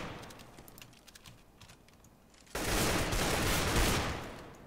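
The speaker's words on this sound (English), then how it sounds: "Who's shooting me?" Gunfire in the CS:GO video game starts as faint, distant rapid shots over keyboard-like clatter, then swells into a loud, dense burst of automatic fire that lasts about two seconds.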